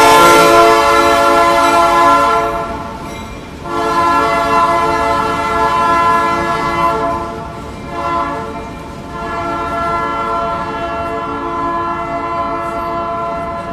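A loud train horn blares over the steady roar of a passing train, sounding in long sustained blasts with brief dips, played back as a recording in a lecture hall; the horn dominates throughout with rumbling rail noise underneath.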